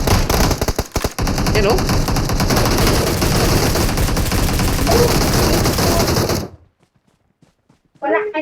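Sustained machine gun and sniper fire in the video game PUBG, with dense rapid bursts for several seconds before it cuts to near silence, and brief voices heard over the shooting.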